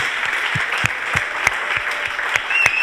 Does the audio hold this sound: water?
no